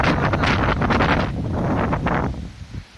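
Strong wind from Cyclone Dana roars steadily around the microphone, with gusty buffeting and rustling tree leaves throughout, easing slightly near the end; no one speaks.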